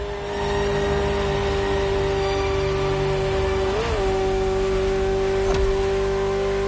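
A Ferrari sports car in a video game holds a steady, droning engine note with a smooth rev swell midway and a brief whoosh near the end, no talk.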